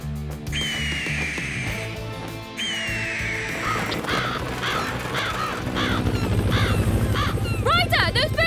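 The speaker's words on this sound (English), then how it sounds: "Those birds are sitting on the corn!" Cartoon crows perched on corn caw repeatedly, loud and near, in rough bursts over busy animated-show music and sound effects, with voices and other noises mixed in.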